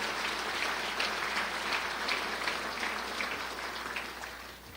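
A large crowd at a city address gives sustained applause for local law enforcement, a thick, even patter of many hands heard from within the room that tapers off slightly near the end.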